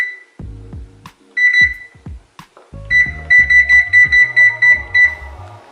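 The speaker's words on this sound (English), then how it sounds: "let me set the timer on the oven for 19 minutes" A kitchen oven's timer is being set: short electronic beeps at first, then a quick run of evenly spaced beeps over low thumps nearby.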